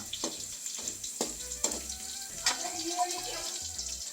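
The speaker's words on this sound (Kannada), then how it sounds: "ಈಗ ನೀರುಳ್ಳಿ ಹಾಕೋದಾ? ಉದ್ದುದ್ದ ಹೆಚ್ಚದ ನೀರುಳ್ಳಿ." Long-sliced onions fry in hot oil for a village-style chicken sukka, a soft crackling sizzle with a few scraping stirs, fairly faint and close.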